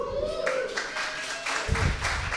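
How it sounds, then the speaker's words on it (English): Tired, sparse audience clapping at a web development bootcamp demo day in Berlin, uneven individual claps rather than a full ovation, with tonal sounds and a brief voice mixed in. "that was a very tired applause"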